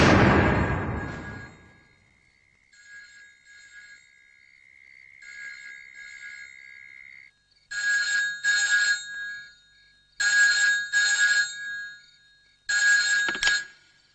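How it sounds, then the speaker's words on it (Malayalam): A telephone rings out after a number is dialed: a short noisy thump, then a steady line tone, followed by loud, close bursts of ringing in repeated double pulses, with no voices. "Just dial the number and find out."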